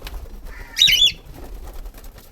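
Frightened pet birds in a home burst into flight, a short loud flurry of flapping wings with a brief chirp, close by, over a quiet room.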